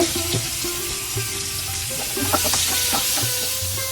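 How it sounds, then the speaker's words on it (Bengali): Potatoes fry in oil with a continuous close hiss and crackle, broken by occasional stirring clinks and scrapes, with no voices. "আলুটা আমি একটু লাল লাল করে ভেজে নেব।"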